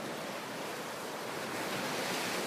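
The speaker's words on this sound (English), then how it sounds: "You can probably hear the surf." Steady ocean surf washes in on a beach in St. Martin with a broad, constant hiss and roar, some wind buffeting the microphone, no voices.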